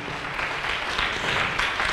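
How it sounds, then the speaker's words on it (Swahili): Congregation at an evening prayer service clapping together for Jesus, a steady dense patter of many hands running throughout without pause. "chapia Yesu makofi mazuri"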